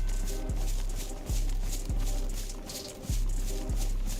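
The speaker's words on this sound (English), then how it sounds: "Thought I heard footsteps." Footsteps in the DayZ video game on a Western-themed server: a slow, regular series of thudding steps, about five in a row, moderately close, with low background ambience.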